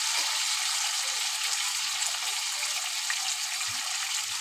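Eggplant, onion and green chili sizzle steadily in fish oil in a pan, a dense, even hiss of frying close up with faint clinks and stirring underneath.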